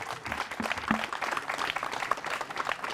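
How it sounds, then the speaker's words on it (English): Applause from an audience at a Juneteenth gathering at the John Brown Tannery in Meadville, a steady wash of many hands clapping at moderate level, sustained throughout without speech. "Let's have a round of applause for Armindia, please."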